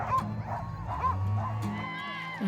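Excited Iditarod sled dogs at the race start in Anchorage, Alaska, yipping, whining and barking in overlapping bursts over crowd noise.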